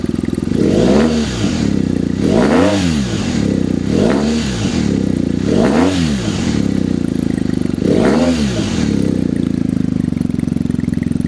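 Loud BMW R1250/R1200 GS Adventure motorcycle engine with an SC Project exhaust held at a steady high idle around 5,000 rpm, blipped in five sharp revs that rise and fall in a regular rhythm.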